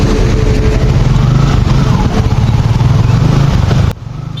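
A motorcycle engine runs close and loud, a steady throbbing drone with slight revving that cuts off sharply near the end.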